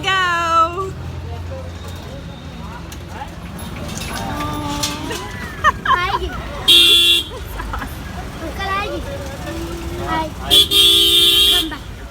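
Auto-rickshaw ride through busy Indian traffic, with engine rumble, repeated car horn toots near and far, and bursts of loud noise, while people talk and exclaim throughout.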